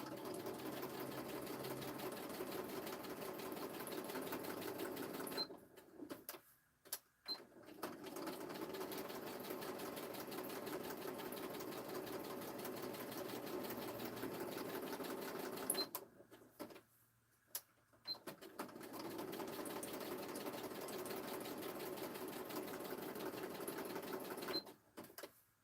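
A sewing machine stitches steadily at craft time, running in long continuous stretches broken by short pauses, fairly quiet and alone.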